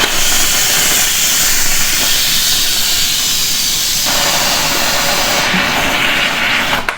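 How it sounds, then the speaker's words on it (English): Steam hisses loudly and continuously from an Instant Pot's pressure release valve as chicken cooks inside, the harsh jet easing slightly partway through and cutting off at the end. "you can release the pressure by pushing the valve down"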